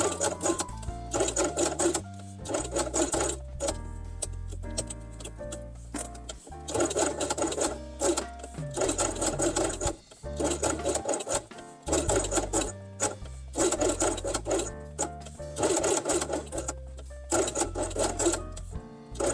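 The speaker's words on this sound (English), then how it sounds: "Then sew both elements along the edge with orange thread." A sewing machine stitches fabric quiet-book pieces together along the edge with orange thread, running in rapid rhythmic bursts separated by short pauses, close and clear with no talking.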